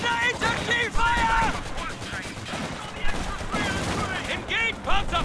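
Infantry rifle and machine gun fire crackles in steady volleys during a World War II battle in the Company of Heroes 2 game, with soldiers' voices calling out over the shooting.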